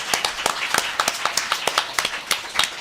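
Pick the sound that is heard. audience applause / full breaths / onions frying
audience applause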